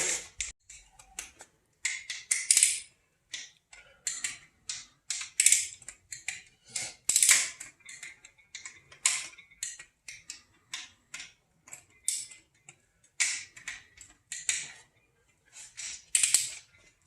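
A ratchet wrench clicks in quick bursts while an LS3 V8 engine is turned over by hand and its rocker arms are torqued to 22 foot-pounds during a cam swap with stock springs and pushrods; sharp, close ticking with short pauses, no talking.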